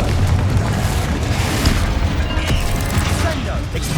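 Confringo blast spell explosions in the Hogwarts Legacy video game, a dense, loud booming roar with layered crackling bursts that runs steadily throughout, mixed with other game effects.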